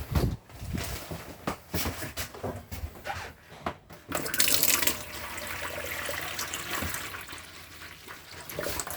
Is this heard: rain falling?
no